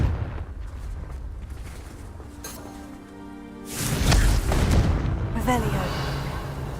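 A Confringo blasting spell explodes in Hogwarts Legacy: a muffled stretch gives way to a loud, broad burst that rumbles and crackles for several seconds, settling into a roaring tail.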